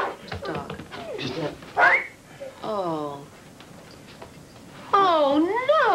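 A dog with a pillow whimpers and yips in a series of high, wavering cries, close by and fairly loud, mixed with people talking.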